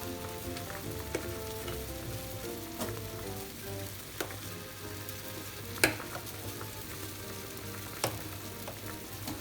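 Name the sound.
pork miso soup (tonjiru) coming to a boil in pot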